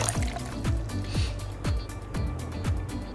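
Water is poured into a bowl while making DIY slime, an uneven gurgling trickle with repeated sloshing pulses roughly every half second, close and moderately loud.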